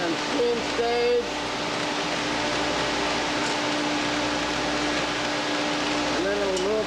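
An industrial carousel ordnance washer works through its final rinse and steam stage, giving off a steady, loud broadband hiss and rumble of spraying water and steam with a constant mechanical hum, while a voice speaks briefly near the start and end.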